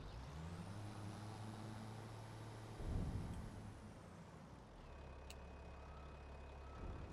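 Tractor reversing in Farming Simulator 25, its steady beeping alarm over a low engine drone, with an air-brake hiss and a rumble partway through.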